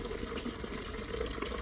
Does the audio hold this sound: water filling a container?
yes